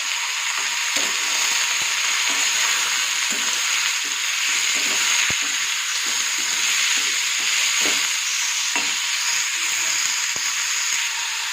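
Potatoes and bitter gourd fry in a pan with a steady, loud, close sizzle and faint occasional stirring clicks throughout, with no talking.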